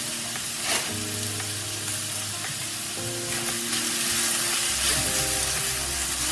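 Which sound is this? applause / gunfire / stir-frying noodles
stir-frying noodles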